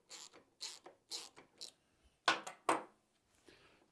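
A Dillon XL-750 powder measure being adjusted with a tightening motion while loading 22 ARC, giving several short, crisp mechanical clicking and ratcheting bursts up close, with two louder grinding clicks near the end.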